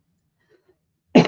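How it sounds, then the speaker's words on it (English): A single sharp throat-clearing cough bursts out close up after a second of near silence, loud and brief. "1 second, I have to cough really bad."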